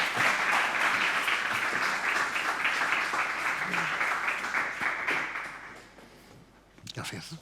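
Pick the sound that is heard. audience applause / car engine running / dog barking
audience applause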